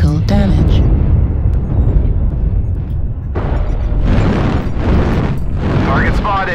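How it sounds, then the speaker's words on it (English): Artillery strike explosions in a tank video game boom and rumble loudly and continuously, with a burst of blasts near the start and a swelling roar later, under voice-like game callouts. "Artillery strike activated."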